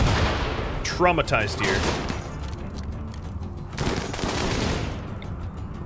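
Mortar and gunfire combat in the colony game RimWorld, with bursts of shots and booms over a busy, continuous battle din while a voice speaks briefly near the start.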